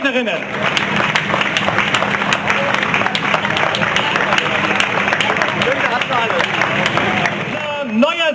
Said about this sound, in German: So, ein Applaus für unsere schnellsten Skaterinnen.